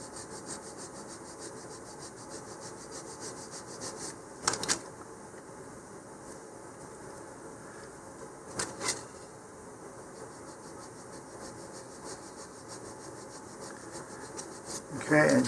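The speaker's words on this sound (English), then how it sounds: "100 grit sandpaper here. And just start sanding it down." Steady, continuous rubbing and scraping of 100-grit sandpaper on a wooden model rocket part, faint and even throughout, with a few brief louder knocks.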